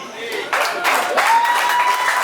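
Audience applause at the official launch of the Kivu Social Festival, a broad wash of clapping that swells after a brief pause, mixed with crowd voices and a thin sustained whistle-like tone.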